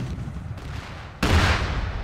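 A tank cannon firing in the World War II tank battle game Arma 3, aimed at a Panther's turret: one sudden loud boom partway through, after low engine rumble, followed by a heavy sustained rumbling tail.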